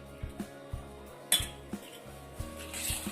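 Semolina being stirred into a shankarpali dough mixture in a bowl, a series of light clinks and knocks of a spoon against the bowl, close and quiet, with no voices.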